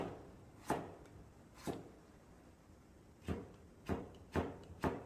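A knife cuts julienne strips of carrot on a cutting board, giving six sharp, separate chops at uneven intervals that bunch closer together toward the end, close and fairly quiet over a low room hush.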